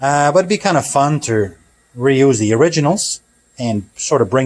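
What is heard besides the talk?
No everyday noise stands out behind the speech.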